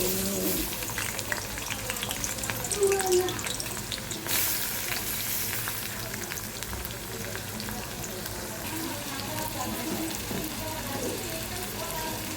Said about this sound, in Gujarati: તેલ ગરમ થઈ ગયું છે. હવે અંદર ડુંગળી ઉમેરી દઈએ.